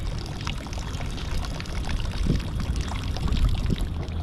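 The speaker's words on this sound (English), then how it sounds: "you can see that water's actually draining out very well" Water drains and pours out of a homemade live bait tank, a steady splashing trickle with low gurgling that swells slightly midway, close and alone.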